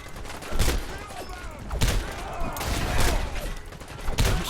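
An enemy fires missiles in a video game, producing a series of heavy booming blasts and rumbling explosions at irregular intervals, loud and dense with overlapping impacts.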